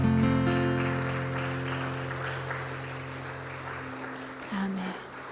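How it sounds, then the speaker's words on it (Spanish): Congregation applauding in a church, a steady wash of clapping over sustained instrumental tones that fade out partway through, with a brief bump near the end. "Dan un aplauso al Señor"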